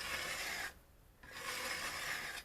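Wood chisel sliding back and forth on a 600 grit sharpening stone while being honed, a steady close rasping rub with a brief pause in the middle before the stroke resumes.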